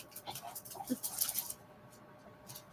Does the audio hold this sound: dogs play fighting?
yes